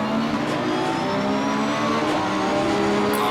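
Race cars in Assetto Corsa Competizione roar off together at a race start at Zolder, engines loud and close, revving and accelerating in a dense, continuous pack with rising pitch.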